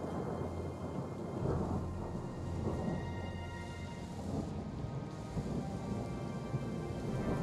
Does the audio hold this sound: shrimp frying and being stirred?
no